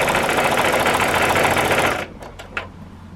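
A sewing machine stitches steadily around the binding of a beginner layer-cake quilt, running loud and close for about two seconds, then stopping, leaving a quiet room with a few small clicks and taps.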